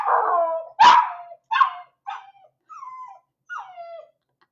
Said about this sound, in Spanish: No sé cómo voy a hacer con la perra.